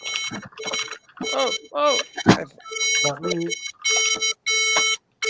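Repeated electronic alarm beeps in short regular bursts, with people talking over and between them.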